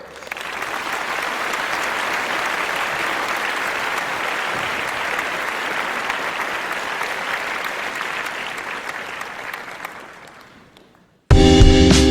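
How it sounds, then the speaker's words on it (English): Studio audience applause welcoming a soul singer onto the Soul Train stage, a steady, loud wash of clapping for about ten seconds that fades out before music abruptly starts. "Give our sister a round of applause."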